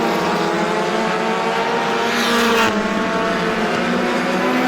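NEMA Lite open-wheel race cars roar around the Star Speedway oval during a feature race, a dense, continuous high-revving engine drone from several cars with a brief louder surge as the pack passes near.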